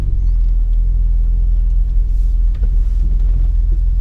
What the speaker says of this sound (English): Right in spec on that idle now